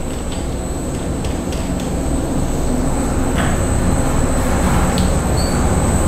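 Butane gas rushing through an open valve from a 1 lb Apollo extractor base into a recovery tank, a loud steady broadband hiss with a faint high whistle and occasional metallic ticks, no talk.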